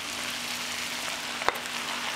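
Meat tossed into a pan of frying onion, pepper and carrot, giving a steady broadband sizzle with one sharp clink midway, no voices.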